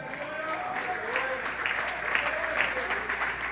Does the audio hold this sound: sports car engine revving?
no